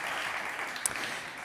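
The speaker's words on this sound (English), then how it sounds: "Big applause for Ines." Faint, distant applause for a speaker at a startup conference stage, a soft diffuse patter of clapping throughout.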